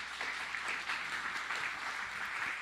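A church congregation applauds in thanks for its leaders, a faint, sustained patter of many hands clapping in a large hall.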